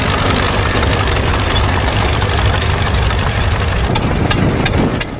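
A 1929 Caterpillar 10 High Clear crawler tractor engine runs steadily and loud up close, with a continuous low rumble and mechanical clatter throughout, with no voices.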